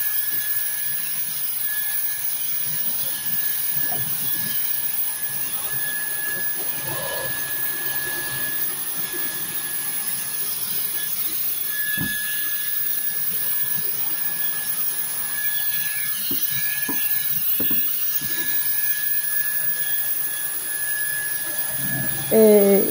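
A Dyson Absolute V10 cordless vacuum cleaner runs continuously during household cleaning, a steady high-pitched whine and airflow roar with occasional soft bumps and knocks, close and constant for the whole stretch.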